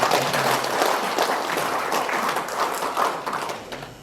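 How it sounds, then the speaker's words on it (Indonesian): Audience applause at an Indonesian education ceremony honoring the Ikatan Guru Indonesia teachers' association, a dense, steady wash of many hands clapping that fills the whole stretch and tapers slightly at the end. "Mari kita tepuk tangan untuk IGI"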